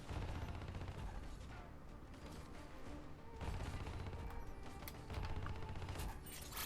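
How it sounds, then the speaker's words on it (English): Enemy gunfire rattles in Call of Duty Black Ops 3 during the In Darkness mission on Realistic difficulty: dense, continuous bursts of shots with mechanical clatter that swell and ease in waves. "Whoa, and he's shooting at me."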